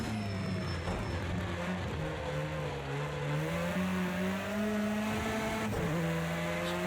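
An Audi S1 EKS RX engine in Project CARS 2 at Bathurst revs loudly and continuously under hard acceleration, its pitch climbing through gears with a brief dip at a shift.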